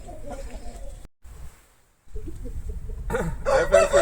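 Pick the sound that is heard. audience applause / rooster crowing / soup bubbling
rooster crowing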